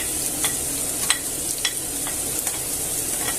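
Garlic, onion and carrot sizzle in a very hot pan, a steady frying hiss broken by several sharp crackles and spatters as the pieces are stirred, with no talking.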